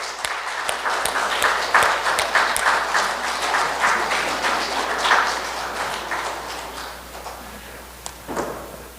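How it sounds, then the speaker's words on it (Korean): A church congregation claps for children at a Lent Sunday service, a sustained round of moderate applause that fades slightly toward the end, with a few louder claps near the close. "우리 친구들 위해서 박수 쳐주세요."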